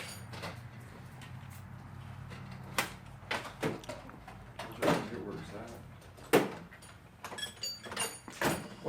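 Metal tool drawers are opened and closed in a home garage while searching for a wrench, giving a series of sharp clacks and slides at irregular intervals, close by, with some low background hum.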